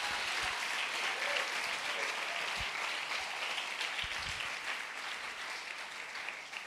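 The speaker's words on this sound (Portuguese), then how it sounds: "Dê só um aplauso, só para você relaxar." Church congregation applauding during a sermon, a steady, distant wash of many hands clapping with little change in level, a few low thumps scattered underneath.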